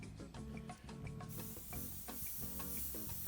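Short test bursts from a Harder & Steenbeck Infinity airbrush with a 0.15 mm needle and nozzle, soft close hissing puffs in an irregular rhythm, quiet and without voices.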